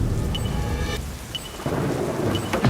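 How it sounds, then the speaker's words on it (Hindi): Heavy rain pours steadily during a thunderstorm in a video game, with a rolling rumble of thunder under the constant hiss and a dense, loud downpour that never lets up. "ये बारिश इसे बहुत ड्रामेटिक बना रही है।"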